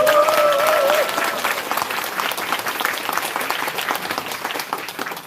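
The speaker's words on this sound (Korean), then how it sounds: "고맙다는 박수 한번 부탁드리고요" Crowd applause at a party members' rally in Eunpyeong, dense sustained clapping throughout, opening under a brief tonal sound from the hall.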